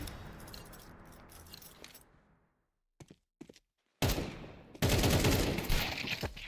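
A brutal video game firefight in a Berserk League match: rapid gunfire bursts, then near-silence broken by a few isolated shots, before loud, sustained heavy fire resumes.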